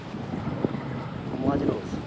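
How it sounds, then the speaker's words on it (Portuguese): Strong northeast wind blowing across the microphone by the sea, a continuous low buffeting roar with faint gusts, near and fairly loud. "E quando venta muito, e já está ventando, o nordestino está entrando"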